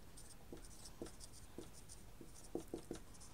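A pen writing on paper, a faint close series of short scratchy strokes coming in uneven bursts, with a quick cluster near the end, in a quiet room.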